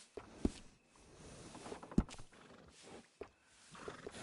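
A horse being groomed in a PS4 video game gives soft snorts and shuffling thuds, with a few sharp knocks over a low, muffled background.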